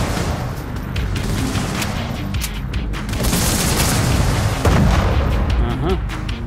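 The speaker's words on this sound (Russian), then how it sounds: "Нас вашим взрывом не напугать." Explosions and gunfire in the action video game Badass Hero, a dense, continuous barrage of booms and bursts with no clear gaps, loud and close throughout.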